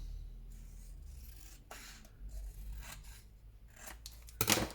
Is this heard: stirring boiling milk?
no